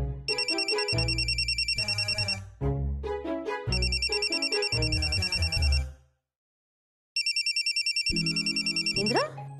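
A mobile phone keeps ringing with a rapid electronic trill in repeated bursts, with pauses between them, over a melodic background music track and some voices, loud and close.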